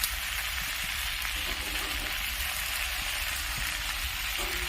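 Vegetables and leafy greens for a fish-head labra mixed vegetable curry fry in a pan, giving a steady, dense sizzle with faint stirring scrapes, close and continuous.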